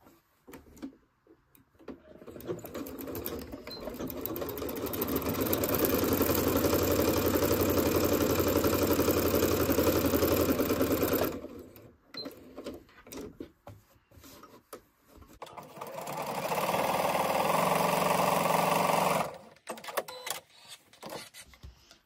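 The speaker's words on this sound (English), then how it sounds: "Sew down either side of this line with a 1/4 inch stitch." A sewing machine runs in two bursts, stitching quarter-inch seams on a maple leaf quilt block, first a long steady whir of about eight seconds, then a shorter run after a pause with small handling noises between.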